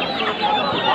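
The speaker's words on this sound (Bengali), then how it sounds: "এই দেখুন, এটা লোকাল, এটা লোকাল মুরগি, আর এটা চাইনিজ, চায়না প্রোডাক্ট।" Chickens at a poultry stall in Kolkata's Bag Bazar market, where local and Chinese birds are kept: a brief burst of loud, dense clucking, close by, with market noise around it.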